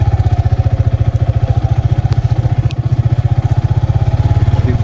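A motorcycle engine thumps loudly and close at a steady rhythm on a rough road to a tea plantation in Majalengka, with one brief dip in the pulsing partway through.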